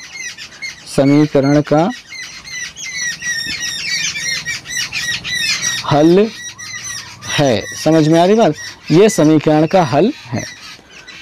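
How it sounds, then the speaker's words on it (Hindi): Birds chirp and squawk loudly in repeated harsh bursts that rise and fall, coming close by while someone speaks in Hindi over and between the calls. "चिड़िया बहुत ज़्यादा चहचहा रही हैं"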